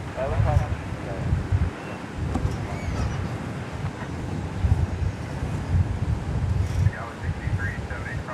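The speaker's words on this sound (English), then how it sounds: "Wind really picking up now." Gusty wind buffeting the microphone at an airport, a steady rushing roar that swells and dips throughout, with a voice talking faintly underneath.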